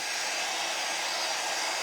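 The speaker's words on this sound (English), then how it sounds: "You have a dryer." A hair dryer runs steadily at close range, a constant loud blowing whir with no voices over it.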